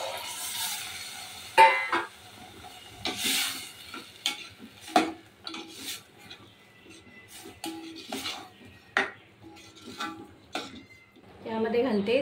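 Cooked green chickpeas being stirred into a spiced ground paste in a home kitchen pan, spoon scraping and clinking against metal in intermittent strokes over a soft sizzle, with someone talking throughout.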